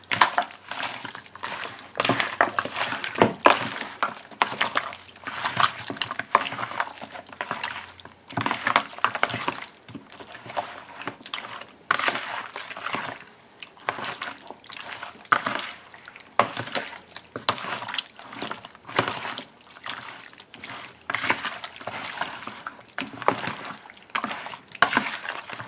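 Chicken pieces being mixed by hand with salt and seasoning, giving a run of wet squelching, slapping and dripping sounds that keep going steadily at close range with no talking.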